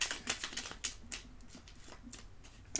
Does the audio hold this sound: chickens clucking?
no